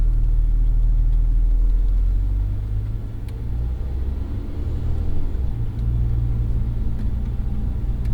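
A 2023 Lotus Emira with the sport chassis pulls away in first gear, its engine rumbling loud and close, the low note dipping briefly and then building again.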